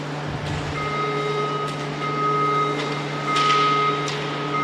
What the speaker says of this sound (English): we've got an alarm going on, so we'll keep an eye on that